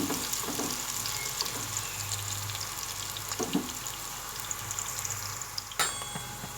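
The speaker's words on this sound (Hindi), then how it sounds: "प्याज को हम सोटे करेंगे। फ्राई करेंगे हम प्याज को।" Onions frying in a pan, with a steady close sizzle, occasional stirring clatter and a sharp utensil knock near the end.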